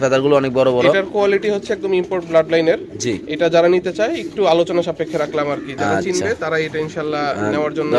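Lahori pigeons at a pigeon farm coo softly in the background while people talk loudly over them.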